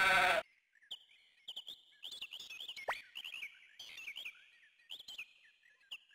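Sheep bleat in the Suikoden II game, short quavering cries repeating in quick bursts after a brief loud opening noise, each call clear and close against silence.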